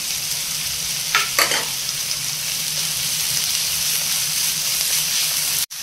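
Onion, curry leaves and ginger-garlic paste frying in a pan for an omelette curry, a steady close sizzle with a couple of brief stirring scrapes and a knock at the end.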